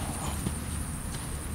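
A Hanoverian Appaloosa cross filly moves along, her hooves making faint, fairly distant clip-clops over steady background hiss. A voice may be faintly present.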